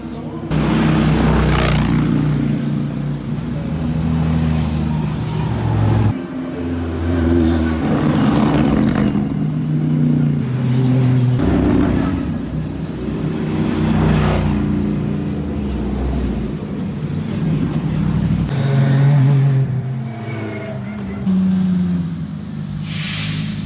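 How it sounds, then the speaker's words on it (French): Race cars at the Spa circuit stream past one after another, engines roaring and fading in repeated loud passes with hissing tire and wind noise, heard up close from trackside. "on va assister à un joli défilé de voitures"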